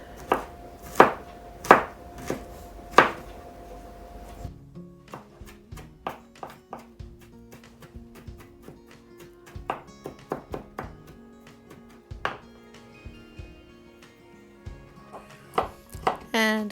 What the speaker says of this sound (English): I only need to roughly chop the garlic